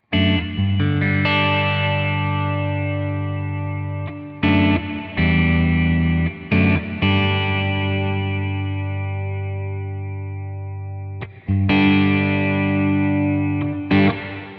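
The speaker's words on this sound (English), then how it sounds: "So let me stick on the modulated reverb and I'll explain what all the controls do." Boss RV-200 reverb pedal on its modulated reverb setting, with sustained guitar chords blooming into long, shimmering, slowly decaying tails, and fresh chords cutting in several times over the fading wash.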